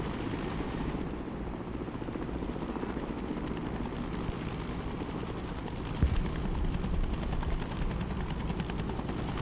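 A helicopter in the Broken Arrow video game drones steadily with a low, continuous rotor rumble, moderately loud and unchanging, with a faint thump partway through and no talking.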